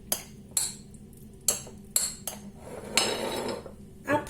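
Utensil stirring ingredients in a bowl while seasoning with pepper and lemon juice, a series of close clinks and scrapes at an irregular rhythm, ending in a longer scraping stir.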